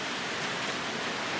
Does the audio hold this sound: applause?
no